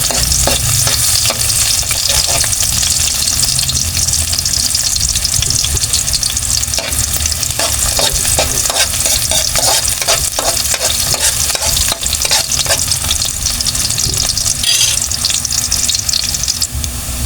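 Loud, steady sizzling and crackling as pork chops fry in a hot pan for adobo, close up and continuous with occasional stirring scrapes, no talking.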